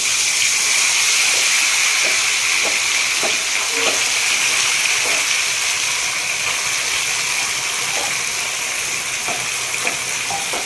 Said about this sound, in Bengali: তেলের মধ্যে গোটা গরম মশলা ফোড়ন দিয়ে এবার ম্যারিনেট করে রাখা মাটনটা দিয়ে দিতে হবে